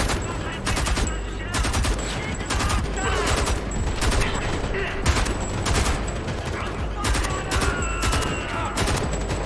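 Sniper and other gunfire in the video game Homefront: The Revolution cracks in dense, repeated volleys across the whole stretch, loud and close, with voices speaking amid the shooting.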